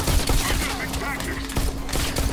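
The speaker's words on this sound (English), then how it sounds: "Am I getting shot? I think I'm getting shot." Dense rapid gunfire fills a VR shooter game, Bullet Train, with overlapping shots and impacts crackling continuously at close range alongside other game effects.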